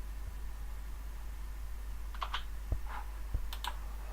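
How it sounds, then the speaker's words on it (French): Computer keyboard keys are pressed in a few quiet, separate clicks near the end over a low background hum, and no one talks. "Voilà, j'appuie sur SHIFT, c'est la touche majuscule."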